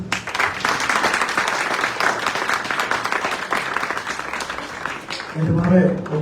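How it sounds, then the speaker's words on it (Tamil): Audience at a bhajan gathering in Kolkata breaking into applause, dense overlapping clapping that holds steady for several seconds, with a voice speaking over it near the end. "பெரிய கரகோஷம் ஒன்று ப்ளீஸ்."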